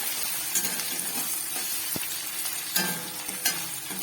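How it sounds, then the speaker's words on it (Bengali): Onion and grated ginger frying in a pan for a mixed vegetable dish, a steady close sizzle with occasional scrapes of stirring, no voices. "পেঁয়াজটা একটু লাল লাল হবে, একটু ভালো করে ভেজে নেব।"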